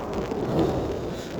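Rain falling steadily during a thunderstorm in Saudi Arabia, with a low rumbling wash and no voices, heard briefly at moderate volume.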